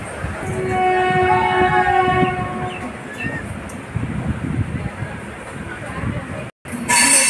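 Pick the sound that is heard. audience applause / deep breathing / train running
train running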